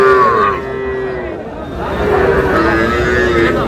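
Sahiwal cattle at a livestock market, a loud close moo that drops away and then rises into a second long low call, with faint background noise.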